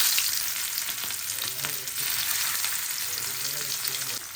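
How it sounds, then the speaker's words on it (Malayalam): Fish pieces fry in hot oil in a pan, giving a loud, continuous sizzle with crackling spatters that holds steady throughout, close and alone with no voices. "അപ്പോൾ നമുക്ക് ഫ്രൈ ചെയ്യാനുള്ള ഫിഷ് ഇട്ട് വെക്കണം കേട്ടോ."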